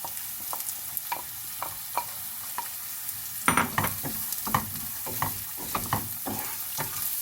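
Diced ginger, green chilli and carrot sizzle and crackle in a hot pan, with repeated scraping stirs of a spoon at a steady rhythm, close up and fairly loud throughout.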